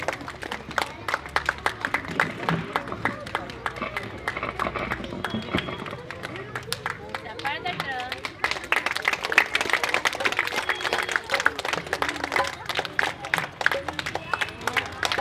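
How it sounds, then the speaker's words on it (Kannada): An audience at an award ceremony honouring a teacher applauds continuously, with clapping spread across the room and crowd noise steady throughout, rising slightly in the second half. "ತಾವೆಲ್ಲರೂ ಜೋರಾಗಿ ಚಪ್ಪಾಳೆಯನ್ನು ತಟ್ಟಿ"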